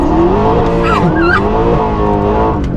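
Mercedes-AMG engine roaring loudly through a turn, a sustained close-up harmonic growl with rising and falling pitch and a brief tire squeal, heard from inside the car.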